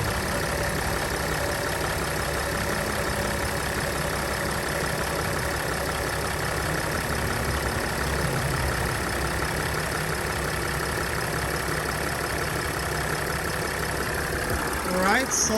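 A 2007 Freightliner Sprinter diesel engine idles steadily after a fuel line repair, a constant near drone with a faint knock that holds for the whole stretch while voices talk quietly over it.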